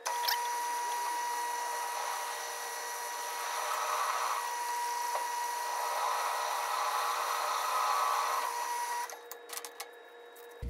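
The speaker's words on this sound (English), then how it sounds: "we're gonna drill all the way through in one fluid motion" A drill whines steadily through metal for several seconds while building a 2x72 belt grinder, a continuous high-pitched grind that stops abruptly, followed by a few faint clinks.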